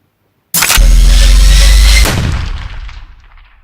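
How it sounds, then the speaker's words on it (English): A gunshot sound effect rings out as a single sudden, very loud boom that holds for over a second, then fades away in a long, echoing tail. "That's when you hear the gunshot."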